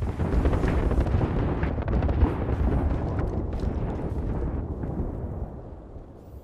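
Artillery strike explosions in the Apex Legends video game, a loud, sustained rumbling barrage of overlapping blasts that fades out toward the end.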